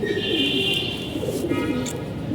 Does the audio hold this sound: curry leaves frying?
no